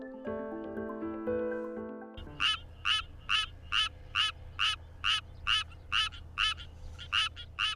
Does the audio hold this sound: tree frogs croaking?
yes